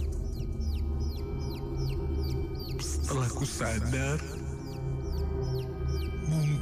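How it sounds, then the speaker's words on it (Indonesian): High, repeated chick peeping runs steadily through a radio horror drama soundtrack, with a spoken narration passage in the middle over the chirps and a low ambient bed. "terasa terdengar seperti anak ayam."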